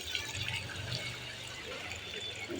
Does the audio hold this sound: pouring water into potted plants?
yes